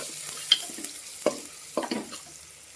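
Mutton curry with turmeric is stirred in a pan, sounding as a few scraping strokes and faint sizzling, close and quiet, with no voices.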